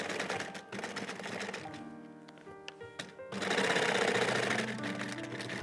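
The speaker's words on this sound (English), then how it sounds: "what we're going to do is just sew along. I'll secure off my end by going backwards on the machine" A sewing machine stitching a tote bag seam, running in bursts with a rapid mechanical clatter, pausing briefly to reverse and secure the end, then running steadily again, close and fairly loud with no talk.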